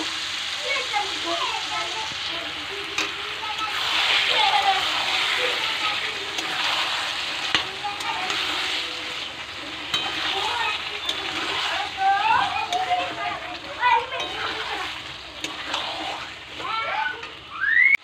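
Mutton frying with cooked spices in a pan, stirred and mixed for a mutton kasha, giving a steady close sizzle with wet sloshing and scraping throughout, under speech.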